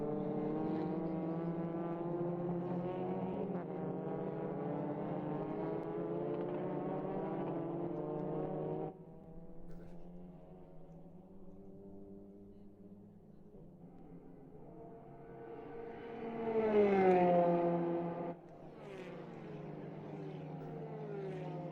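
TCR touring race cars in a TCR Eastern Europe race at Grobnik power along the back straight, a loud sustained engine drone that climbs in pitch, drops sharply at two upshifts, then swells as a car passes close.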